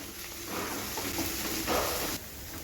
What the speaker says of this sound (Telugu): స్టవ్ పెద్దగా పెట్టుకొని ఆనియన్స్ కొత్తిమీర కరివేపాకు పుదీనా ఎర్రగా వేయించుకోవాలి